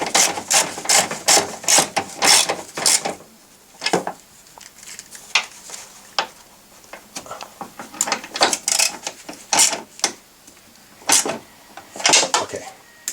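A ratchet snugs down three bolts holding the windshield washer reservoir on a 2001 Volvo S60. It makes clusters of sharp metallic clicks in uneven spurts, with brief quiet gaps between strokes.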